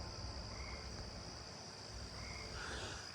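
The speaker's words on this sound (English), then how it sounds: "I hear the eastern gray tree frog in my backyard." Eastern gray tree frog calling in a backyard at night: faint, distant trilling croaks repeating over a steady insect and cricket hum, with no talking.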